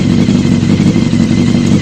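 A restored motorcycle engine runs loud and close in a steady rough idle, with no shutdown audible in the short stretch.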